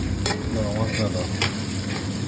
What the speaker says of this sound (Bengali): পেঁয়াজটা ভালো করে ভাজতে হবে এইভাবে